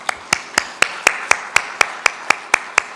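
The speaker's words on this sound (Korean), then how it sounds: "하나님께 영광 박수 올려드리겠습니다" A church congregation at a Korean Sunday worship service claps in unison, a dozen sharp, even claps at a brisk steady tempo of about four per second, with no voices over them.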